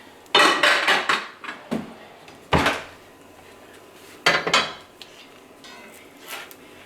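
A Paris dish pulled from a cupboard: sharp ceramic clinks and knocks in quick close bursts, a few separate handling clatters spread over several seconds with quiet pauses between, no voices.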